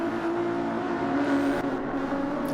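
A Ferrari race car engine at the Nürburgring Nordschleife in a racing video game, holding a steady sustained drone with a constant pitch throughout the short moment.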